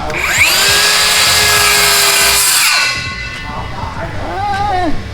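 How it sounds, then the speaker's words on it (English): A circular saw whines loudly at high pitch for a few seconds, then cuts out; a voice speaks briefly before the motor winds up again near the end. "Back with the circular saw"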